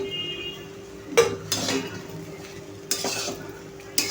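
A spoon stirs ground peanuts into sabudana khichdi frying in a pan, giving a soft sizzle under scraping strokes and a few sharper clanks against the pan, close and steady, with no talking.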